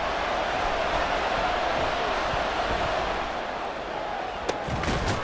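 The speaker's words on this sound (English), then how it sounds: "This crowd turning up the decibel level." In Madden NFL 24, a stadium crowd roars loudly and steadily at a football game, a constant wall of noise with a brief sharp thump near the end.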